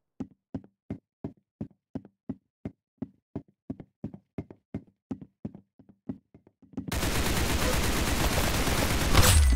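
Gunshots in Roblox Arsenal during a 1v1 match: a steady run of about twenty sharp, evenly spaced shots, clear and isolated, followed abruptly by a loud continuous burst of noise.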